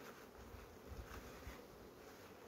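Honey bee colonies buzzing at their hives, some of them sick with chalkbrood and under treatment; a faint, steady, low droning hum continues throughout with no talking.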